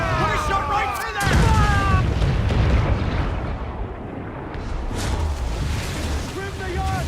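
Ship cannons boom in the Assassin's Creed IV Black Flag naval battle as shots are fired at towers, a heavy low blast followed by rolling rumble and sea noise, with shouted crew commands over the action.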